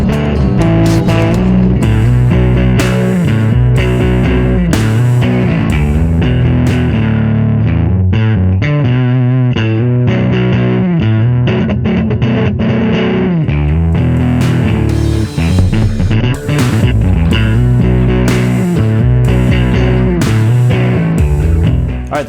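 A bass guitar runs through a Genzler 4 On the Floor overdrive pedal set to its most fuzz-like fourth gear. It plays a loud, continuous riff of thick, distorted notes for over twenty seconds, with no talking.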